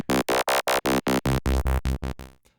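A deep Serum wavetable synth bass oscillator, pitched down an octave, plays a run of about eleven short, punchy notes in quick succession, growly and bright, fading out at the end, no talking.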